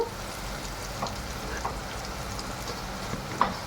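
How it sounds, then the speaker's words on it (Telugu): Sliced red onions fry in a pan with green chillies, mustard seeds and chana dal as the base for a chicken dish, giving a steady close sizzling hiss broken by a few faint pops and ticks. "మనకు ఎరగడ్లు బాగా ఫ్రై అయ్యాయి కదా"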